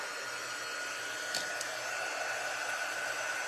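Heat gun used as a dryer on stamped ink for a craft project, a constant whirring blower hiss running steadily throughout at moderate volume with no talking.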